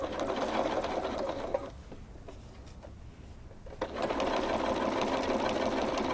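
A sewing machine stitching the seam of a holiday bench pillow cover, running in a fast, steady rattle, pausing for about two seconds, then starting again close and clear.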